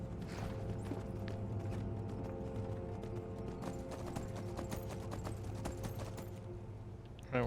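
Horse hooves clip-clop in steady rhythm in Skyrim, a continuous galloping patter with a few sharp clanks under ambient game sound, faint and fairly close.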